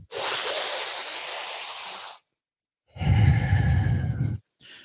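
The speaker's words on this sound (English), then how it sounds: "balloon breathing is a very controlled, slow breath where we expand the body, and it looks like this" Controlled, slow balloon breathing through the mouth: a long, steady airy inhale of about two seconds, a short silence, then a deeper, rougher exhale of similar length, close and clear with no talking.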